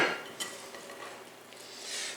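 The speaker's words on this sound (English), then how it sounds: "And then I'm going to whisk this in." Hot coffee whisked into chocolate cake batter in a bowl, quiet close clinks and scrapes of the whisk against the bowl in an uneven rhythm, with no voices.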